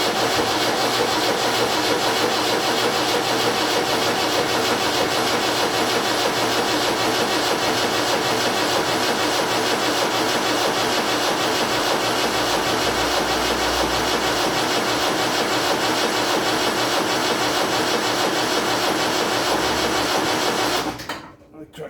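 Land Rover Series 3 diesel engine cranking over on its first start attempt, a steady, loud starter-motor churn that runs continuously for about twenty seconds without catching, then cuts off abruptly.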